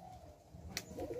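A Madrasi pigeon gives a short, soft coo close by over a low background hum.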